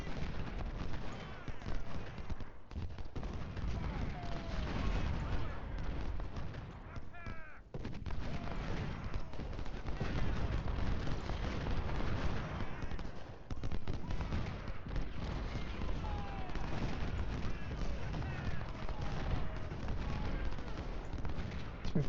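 Artillery fire in Ultimate General Civil War video game rumbles continuously at a distance, with scattered booms and gunfire crackle layered in a dense, muffled battle din.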